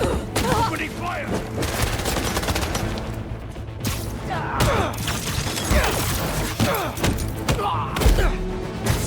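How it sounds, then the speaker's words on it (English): Enemies open fire in the Spider-Man 2 video game with a loud, continuous barrage of gunshots and bursts, mixed with thuds, mechanical clanks and booms, while voices call out over the chaos. "Opening fire!"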